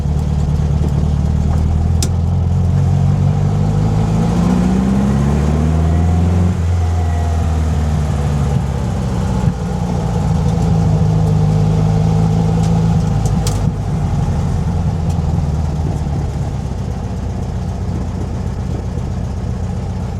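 A 1965 Volkswagen Beetle engine runs steadily while driving laps, a loud, continuous mid-pitched drone that rises and falls as the car revs and shifts, with no talking.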